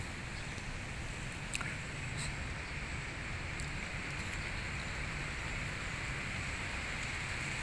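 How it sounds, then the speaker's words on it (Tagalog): Heavy rain falls steadily outdoors, a dense continuous hiss with occasional sharper drops, even and unbroken throughout. "Hindi na matapos-tapos yung ulan,"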